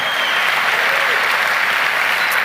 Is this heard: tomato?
no